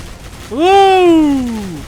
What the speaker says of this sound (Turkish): C4'ü patlatıyorum.